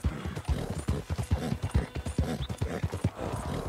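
Horse hooves clip-clop steadily at a brisk walking rhythm in the Red Dead Online video game, each hoof strike distinct and close, with no talk over them.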